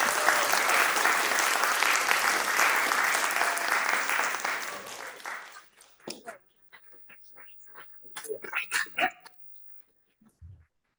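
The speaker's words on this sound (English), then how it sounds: "let's give a large round of applause for these" An audience at a university faculty debate on consciousness applauds the professors, a dense steady round of clapping for several seconds that stops abruptly, followed by scattered small noises and a short bark-like sound.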